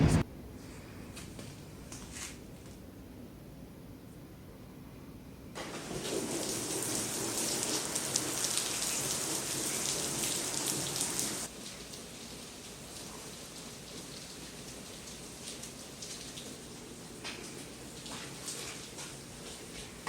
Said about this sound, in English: But it's starting to rain already